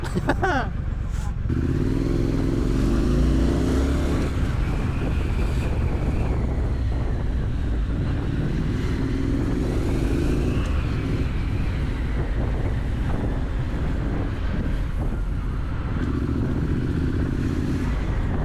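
A Triumph Street Scrambler motorcycle rides along with a steady engine drone and rising and falling revs, heavy wind rush on the microphone, and a loud, continuous sound throughout.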